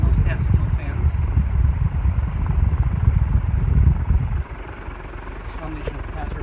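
A 36-inch SMC industrial steel ceiling fan with steep blade pitch running on high, giving a loud, steady low-pitched whooshing roar that drops slightly in level partway through, with someone talking over it.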